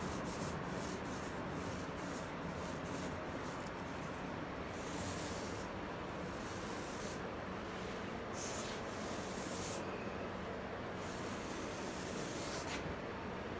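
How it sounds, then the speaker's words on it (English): Steady, continuous scratchy rubbing of hand sanding primer on a 1980 AMF Sunfish Viper boat hull, close and even throughout with no voices. "Come back and hit it again with just some hand sanding"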